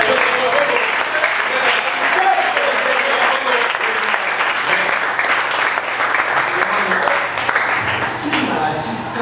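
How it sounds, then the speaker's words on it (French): A French-speaking church congregation applauds during a sermon, sustained loud clapping from a crowd that holds steady for several seconds before tapering slightly near the end. "Vous applaudissez pour le Seigneur."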